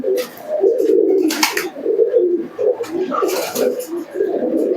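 Giribaj pigeons from Murshidabad coo repeatedly in close, soft, throaty phrases, punctuated by bursts of wing flapping and rustling.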